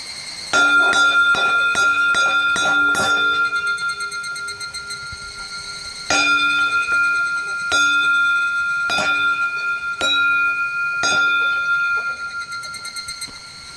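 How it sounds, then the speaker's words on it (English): A bell on the forest trail to Tsumago rings in clusters of bright metallic strikes with long ringing tails, loud and close, repeating in bursts over the walk. "if there's a bell every mile or so, there might be bears here."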